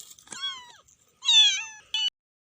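Week-old abandoned kittens meow in three separate high, wavering cries, close and clear against near silence, the middle call the longest and loudest.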